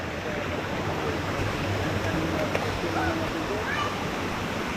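Water rushes steadily at the end of a high rock wall, a broadband roar of a waterfall and flowing stream, constant and close, with faint voices beneath.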